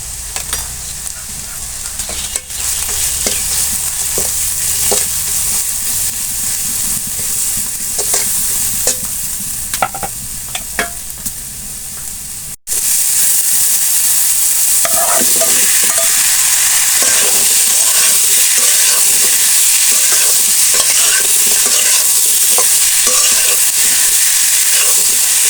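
Spices with turmeric, chili powder and salt sizzle and frying hard in a pan while being stirred for a hilsa curry with cucumber, the steady hiss growing louder and denser partway through, with occasional scraping stirs and no talking.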